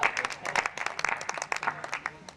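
Brief, lively audience applause at a Hindi poetry recital in Rajgarh, a dense patter of many hands clapping at close range, steady throughout with no talk over it.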